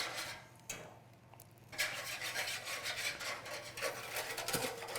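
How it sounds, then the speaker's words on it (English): Whisk scraping roasting juices and flavour off the base of a heated roasting tin as they begin to simmer, a steady close rubbing rasp with brief pauses and no talking. "whisking all the juices and flavour off the base of the tin"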